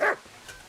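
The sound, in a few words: dog barking in video game Kingdom Come: Deliverance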